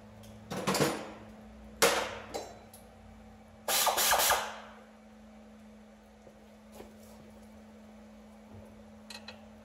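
Removing 13 mm rear brake bolts on a 2010 Chevrolet Camaro, with a few sharp metallic tool clanks and a longer ratcheting burst, then quieter scattered clicks, close by under a steady low hum.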